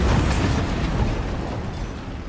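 A Bombarda blasting spell explodes in the Hogwarts Legacy video game: one loud, close, rumbling burst that decays over about two seconds, with no voices.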